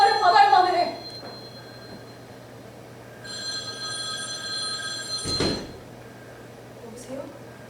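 A telephone rings on stage during a student theatre performance, in a loud burst of bell trills at the start, then a fainter, steadier ring later, with a thump and a quiet hum throughout.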